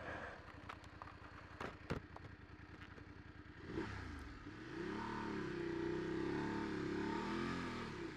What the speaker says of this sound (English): Bit of wheel spin to get underway